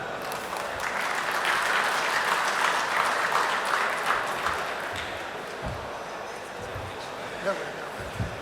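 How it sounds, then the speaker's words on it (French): Dense, sustained applause from an audience at an opening ceremony fills the hall, loud and steady at first and then slowly thinning, with a voice heard over it. "je vous demanderai sous un tonnerre d'applaudissements de recevoir Monsieur Abdullah Moutaki"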